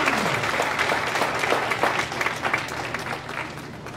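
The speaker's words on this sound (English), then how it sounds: "Round of applause." Audience at a school talent show claps steadily for a few seconds in a dense, even applause that tapers slightly toward the end.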